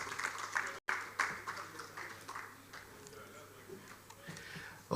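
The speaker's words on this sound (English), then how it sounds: "A round of applause." Audience applause for speakers on a panel at a housing show, a burst of clapping that fades to a lighter patter, with a voice talking over it.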